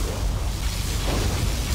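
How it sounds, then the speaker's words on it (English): Particle cannon blast from the video game Command & Conquer Generals, a loud, dense low rumble that holds steady for nearly two seconds with no break. "Particle cannon activated."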